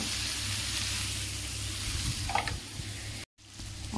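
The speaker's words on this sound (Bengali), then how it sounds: "পেঁয়াজ, টক দই, একটু এলাচ, দারচিনি, লবঙ্গ দিয়ে মশলাটা কষিয়ে নিই" Spice paste of onion, yogurt, cardamom, cinnamon and cloves sizzling steadily in a pan, a close, continuous frying crackle with a brief stir near the end.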